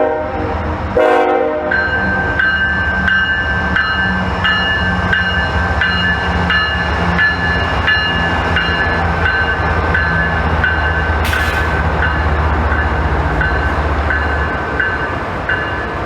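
A CSX freight train rolls past in West Springfield, Massachusetts, in winter, giving a loud, steady rumble with wheel clatter and a sustained horn that sounds clearly over the passing cars.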